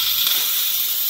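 Instant Pot releasing pressure, a steady loud hiss of escaping steam, continuous and close throughout, with no other sounds.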